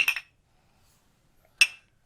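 Glasses clink together in a toast among family, two sharp bright rings about a second and a half apart, close and crisp against near silence.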